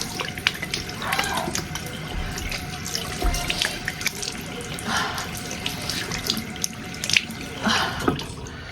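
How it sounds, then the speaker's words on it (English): Tap water running into a bathroom sink while someone washes their face, a continuous splashing rush with irregular louder splashes and drips, close and steady for several seconds. "I'm going to wash my face"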